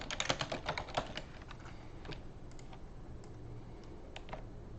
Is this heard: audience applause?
no